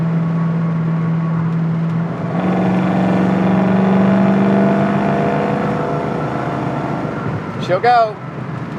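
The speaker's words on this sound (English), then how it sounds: "That's what a happy little 289 runs like right there." A 1966 Ford Mustang Fastback with a 289 V8 runs steadily close by, then its engine note swells as it accelerates and holds a strong drone, with someone speaking briefly over it near the end.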